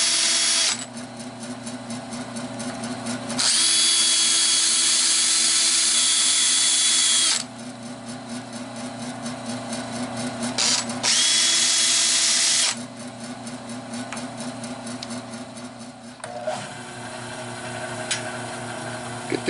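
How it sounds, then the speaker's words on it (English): A brass brush pressed against a birch bowl spinning on a wood lathe, a loud steady motor hum with harsh bursts of bristle scrubbing that start and stop several times, close and alone with no talk. "Brass brush."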